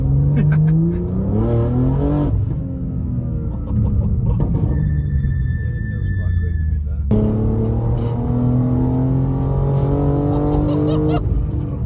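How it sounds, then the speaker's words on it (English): A tuned Stage 2 BMW G87 M2 of about 710 bhp pulls hard on the road, engine pitch climbing loudly through repeated gear changes from inside the car, with a brief spoken moment in the middle. "So the car is now coming off the dyno as we need to see how it drives on the road."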